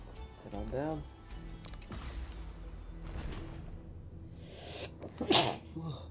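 One sharp sneeze bursts out near the end amid game sounds in Honkai: Star Rail, following a stretch of voices and soft whooshing effects.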